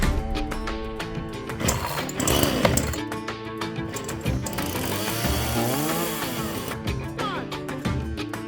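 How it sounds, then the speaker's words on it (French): A chainsaw runs loudly and close, its engine buzzing and rising and falling in pitch as it revs, with brief cuts in tone. "Maintenant, on va changer de tronçonneuse."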